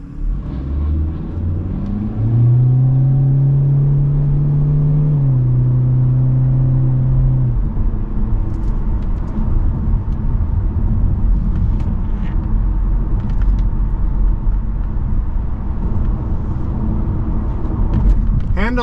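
A 2024 Hyundai Elantra SEL Convenience compact sedan with its economical powertrain drives on the road, giving a steady engine and road rumble that rises briefly in pitch early on, with a voice talking over it.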